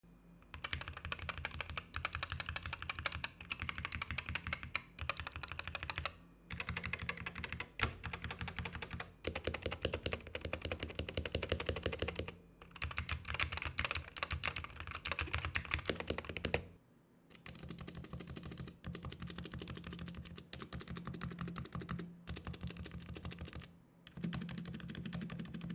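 Steady typing on a keyboard, either a Wooting 60 HE or a Razer Huntsman V2, a dense stream of close, clicky keystrokes that continues for long stretches with a few short pauses.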